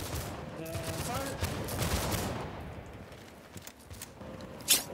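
A musket volley crackles out as a ragged burst of many overlapping shots in a Napoleonic-era line battle in the video game Holdfast: Nations At War, then fades into distant scattered reports, footsteps and a voice, ending with one sharp nearby crack.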